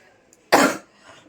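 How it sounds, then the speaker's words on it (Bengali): A single harsh, wheezy cough bursts out close to the microphone, short and forceful, then fades into quiet with no talking around it. "কাশির সাউন্ড কি ঘ্যার ঘ্যার ঘ্যার ঘ্যার করছে"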